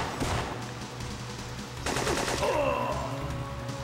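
Gunfire rattles in the PS1 game Syphon Filter, with rapid bursts of shots, a loud stretch of sustained automatic fire midway, and ricochet-like whines trailing after.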